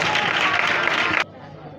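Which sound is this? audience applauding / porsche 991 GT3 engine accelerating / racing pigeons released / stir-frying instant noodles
audience applauding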